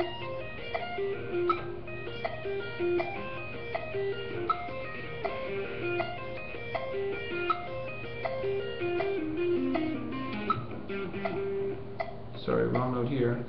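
A tapping exercise is played on an instrument against a metronome, with regular ticking clicks under a steady run of picked notes and a louder flurry near the end.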